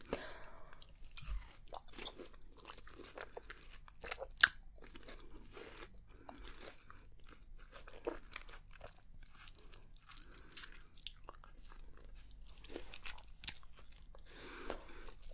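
Close-up chewing and biting of fresh lychee fruit, with soft wet mouth sounds and small crunchy bites repeating quietly throughout, isolated and near the microphone in a quiet setting.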